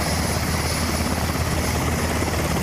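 A rescue helicopter flies over a mountain landslide area at Jiuqudong, Taiwan, carrying stranded people down to the foot of the mountain. Its rotor and engine roar fills the short stretch, loud and steady, with no voices.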